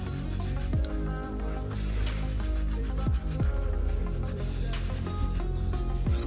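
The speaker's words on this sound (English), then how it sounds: "So I'm using a soft brush, as you can see." A soft brush scrubs the brake caliper of a Range Rover Evoque during a rear brake pad and rotor replacement, giving a steady soft rubbing that runs under louder background music throughout.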